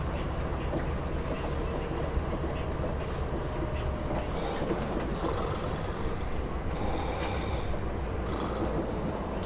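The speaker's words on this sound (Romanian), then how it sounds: "așa frumos să circul cu trenul" Inside a passenger train in snowy country, the carriage gives a steady rumbling roll with faint rattles and clicking from the rails, a constant loud mechanical bed without a break.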